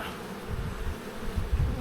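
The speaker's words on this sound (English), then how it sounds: "Wow, there's a lot of bees in there." Honey bees buzz thickly inside an open hive during a summer inspection, a steady close droning swarm hum with low rumbling surges, no voices.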